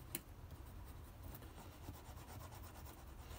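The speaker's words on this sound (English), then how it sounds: "But just a quick scrape over the top" Rough, continuous scraping of a tool over the top of used plastic plant labels at an allotment, a steady close rasping rub with small scratchy bursts throughout.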